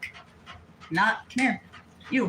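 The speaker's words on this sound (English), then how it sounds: "I can't have a dog like literally under my feet." A pet dog pants in quick rhythmic breaths close by indoors, while a person calls to it and speaks over the panting in short bursts.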